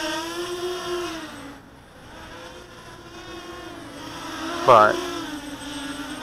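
An EMAX Nighthawk Pro 290 quadcopter drone on its maiden flight on a stock tune, hovering in wind, gives a steady motor whine that rises and falls with throttle, with a sharp louder burst near the end and a brief spoken word.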